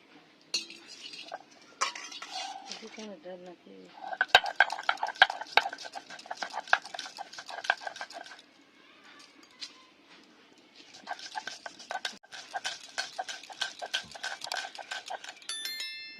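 Soaked lentils are ground by hand on a grinding stone, with rhythmic bursts of scraping and knocking in two long passes separated by quieter gaps.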